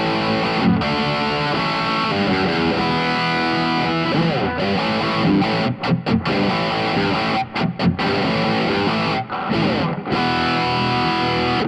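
Electric guitar with a crunchy overdriven tone through a LEKATO Tank G multi-effect pedal, loud sustained chords and riffs with brief pauses between phrases, played alone without talking.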